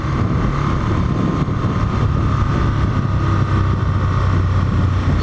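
An Aprilia RSV Mille R motorcycle engine drones steadily and loudly while riding through Sheffield, Yorkshire, a constant throbbing hum mixed with rushing wind noise and no break in the sound.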